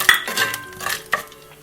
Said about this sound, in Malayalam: അതിലേക്ക് നമ്മുടെ എല്ലാ സ്പൈസസിനെയും ഒന്നിടാം.